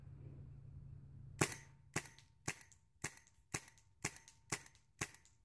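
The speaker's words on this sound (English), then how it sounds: "I'm going to shoot at a tree approximately 40 yards down range." An airsoft Tippmann M4 Carbine fires at a tree about 40 yards downrange outdoors: eight sharp, loud cracks spaced evenly about half a second apart, following a moment of quiet low rumble.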